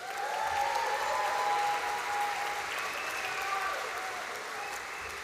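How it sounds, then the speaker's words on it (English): An audience at a graduation ceremony claps continuously, a warm, even wash of applause that swells slightly early on and then holds steady. "Give yourselves a huge round of applause."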